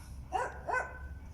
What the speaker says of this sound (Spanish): tengo unos perritos vecinos que son como unos peluchines y están ladre y ladre y ladre